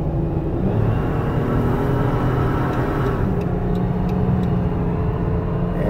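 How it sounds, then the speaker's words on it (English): A 2013 Dodge Caravan SE wheelchair mobility van with 119K miles accelerates on the highway toward 70 mph, a steady close engine and road rumble that holds level throughout with no talk. "So I'll see if I can get up to about 70 miles an hour."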